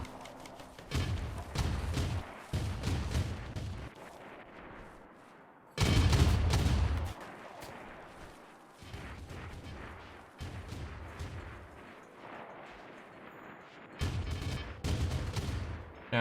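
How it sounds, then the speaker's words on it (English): Twenty-five-millimetre autocannons fire in the colony game RimWorld, with repeated bursts of heavy, thumping shots in uneven volleys and a louder cluster partway through. "These are auto cannons. They're like 25mm cannons."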